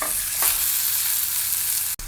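Steak sizzling in a hot oiled pan on the stove, a steady loud hiss of frying that holds for about two seconds before a brief break at the end.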